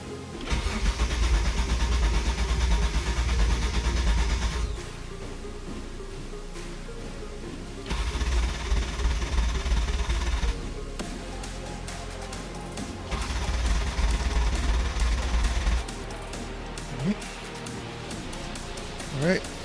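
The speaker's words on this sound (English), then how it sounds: "time to do a couple of cranks for priming, new turbos, get oil going." The engine of a 1994 Mitsubishi 3000GT VR-4 with new turbos cranks for oil priming in three separate long bursts of steady starter churning, each a few seconds long, with quieter pauses between them.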